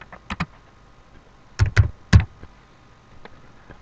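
Keys clatter on a computer keyboard while entering data in a Microsoft Excel spreadsheet, with a few short clusters of clicky keystrokes close to the microphone and a quiet pause between them.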